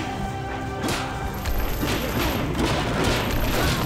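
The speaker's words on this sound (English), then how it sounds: "I just destroyed a building" Crashing destruction of a building in the video game One Finger Death Punch, a dense burst of smashing impacts and thumps that starts near the second mark and keeps up loudly to the end over a steady game background.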